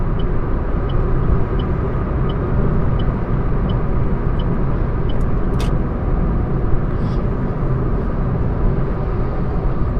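Car driving on a highway at around 70 to 75 km/h, heard from inside: a steady, loud broadband road and engine rumble that stays constant throughout, with faint ticking, likely an indicator, in the first half.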